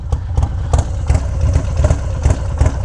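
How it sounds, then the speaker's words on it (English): A Low Rider motorcycle fitted with an S&S 475 cam runs close by with a lumpy, loping idle, and small diesel-like pops crackle irregularly through the steady low engine throb. "we're getting a few little diesel pops"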